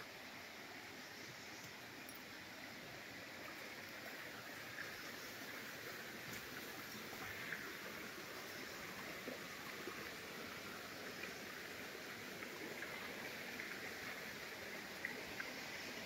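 A forest stream in rural Konkan flows steadily with a soft, continuous rush of running water. The sound stays constant throughout, fairly quiet and even, with no one speaking.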